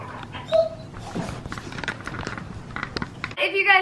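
Dogs bark outdoors in short bursts scattered through the clip, mixed with whimper-like yelps and a busy, cluttered background, with a sharper burst near the end.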